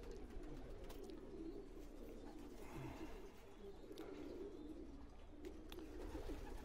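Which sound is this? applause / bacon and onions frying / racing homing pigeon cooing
racing homing pigeon cooing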